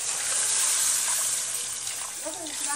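Water poured into a pan of egg curry with masala, potato and eggs gives a steady rushing, splashing hiss for about three seconds, with a brief voice near the end.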